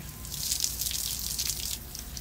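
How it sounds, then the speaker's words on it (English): Water from a running shower rinses over a hand, giving a close, bright splashing hiss that rises and falls slightly as the hand moves through the stream, with no talking. "First thing we're going to do is we're going to rinse my hand."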